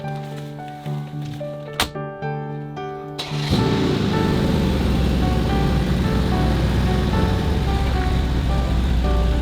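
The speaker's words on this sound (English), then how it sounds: "we're just pulling in the old car wash here" A car rolls into a touchless car wash, with a steady tonal hum and brief clicks at first, then a loud, broad rush of spraying water or blowers takes over and holds steady.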